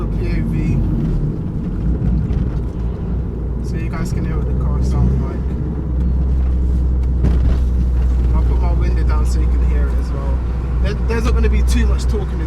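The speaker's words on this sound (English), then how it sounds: "So you guys can hear what the car sounds like." Forged Vauxhall Corsa VXR heard from the driver's seat, a steady engine drone and road rumble with wind noise building as it pulls, while someone talks over it.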